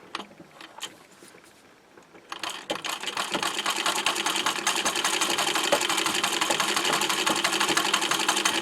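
A sewing machine with an embroidery foot darns a hole, stitching back and forth. A few hesitant stitches come first, then a fast, steady mechanical rattle runs continuously and loudly to the end, with no talking.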